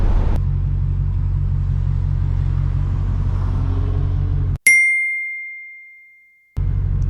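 A 2020 Hellcat Redeye engine holds a deep, steady rumble at half throttle on launch control, then is cut off by a sharp ringing ding and a silent gap before the rumble returns.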